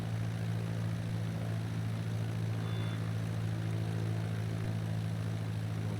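A light aircraft's propeller engine drones steadily and close during a flight over Chesterfield and the Peak District in Derbyshire, with the throttle being reduced. The hum stays even and unbroken throughout, with no voices.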